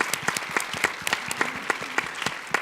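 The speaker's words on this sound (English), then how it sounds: "Just want to give them a round of applause." A small audience at a panel discussion on Chicago's school closings claps steadily, with sharp individual claps standing out in a sparse, close round of applause.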